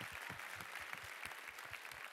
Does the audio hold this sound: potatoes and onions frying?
no